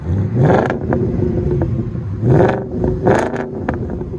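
A 2008 Audi S5 with a 4.2L V8 and deleted muffler barks through several sharp throttle blips, each rising quickly and falling back to a burbling idle, loud and close.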